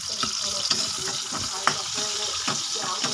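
Mung beans sautéing in a pan give a steady, close sizzle and frying hiss, with scattered scrapes and clinks from stirring.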